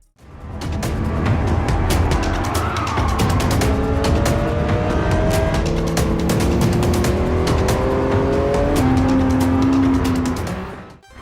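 A meticulously recreated supercar races in the Gran Turismo 7 VR video game, its engine loud and sustained as it revs and shifts through rising pitches, with brief tire squeal, and no talking.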